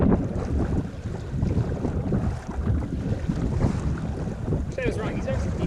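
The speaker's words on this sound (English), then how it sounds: "We were greeted with very windy conditions on the water." Strong wind buffets the microphone on a boat out on a lake with whitecaps, a loud continuous roar with gusting rumble and water slapping beneath, a faint voice briefly under it.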